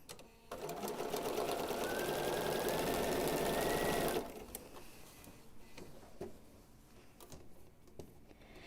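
A sewing machine hums loudly and smoothly for about four seconds while stitching a pieced quilt backing, then drops to quieter rustling and light handling sounds.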